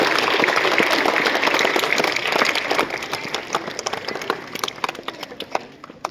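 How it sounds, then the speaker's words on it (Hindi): A school sports-day audience applauds loudly at a stadium event, with dense clapping that gradually thins into scattered, sharper claps toward the end. "जोरदार तालियां कर्ण के लिए"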